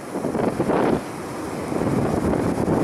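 Large ocean waves break on the beach at Vale do Lobo in the Algarve, a dense, loud wash of surf mixed with heavy wind buffeting the microphone, and no talking.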